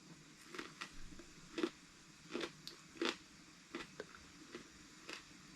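Plain unsalted cucumber being bitten and chewed, a series of soft wet crunches in an irregular rhythm, close and quiet, with no talking.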